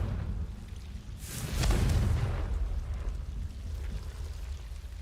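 A Confringo fire spell bursts in Hogwarts Legacy, a sudden rumbling blast that swells and then rolls away into a long, low crackling roar over steady game ambience.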